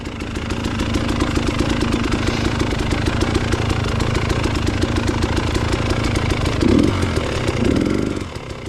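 A two-stroke motorcycle engine runs continuously while riding, a loud, buzzing, rapid-firing drone held steady throughout, with a brief rise in revs near the end.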